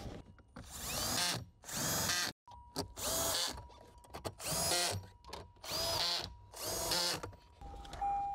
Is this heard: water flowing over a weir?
no